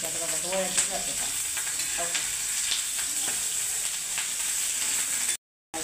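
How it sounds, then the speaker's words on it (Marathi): Green chillies roasting in a hot pan for a spiced urad dal, a steady sizzling crackle with occasional stirring scrapes, close and alone with no talk, ending in a brief silent gap. "मिरच्या भाजून घ्यायच्या."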